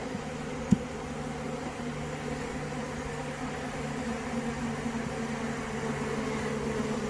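A steady, dense buzzing of many honey bees robbing a hive and chewing the comb fills the air, a continuous droning hum with no voices.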